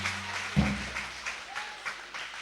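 A church congregation applauding for Jesus, a brief burst of hand clapping rising sharply and continuing at a moderate level in a reverberant hall, with faint voices beneath.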